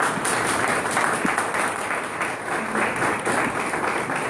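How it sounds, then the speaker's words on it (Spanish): An audience at a conference applauds to welcome a speaker, with continuous, fairly loud clapping from a roomful of people that holds at an even level throughout. "vamos a recibirlo con un fuerte aplauso"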